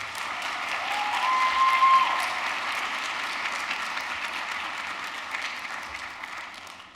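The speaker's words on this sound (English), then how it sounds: "Could I give a round of applause to Deontay?" Audience applause at an honors college induction and recognition ceremony, a steady, even wash of many hands clapping that swells slightly in the first couple of seconds and then holds before tapering off.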